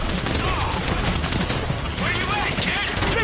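Rapid gunfire from a GTA V heist shootout, dense continuous bursts of shots under loud shouting voices, close and harsh throughout.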